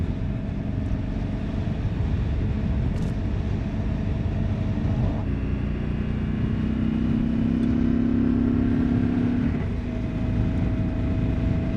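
An Indian motorcycle engine rumbles steadily while being ridden, a low continuous drone with a quiet exhaust that rises slightly in pitch as the rider accelerates, heard alone for about twelve seconds.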